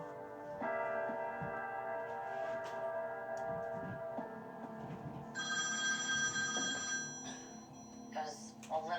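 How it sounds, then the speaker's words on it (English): A telephone rings repeatedly in a steady bell-like pattern just after midnight, with background talk running underneath. "the phone rang, and I didn't get up"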